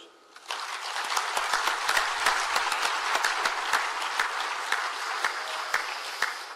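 Audience applause at the closing of a forum in Tangier, a dense roomful of clapping that starts abruptly and holds steady and loud for over six seconds.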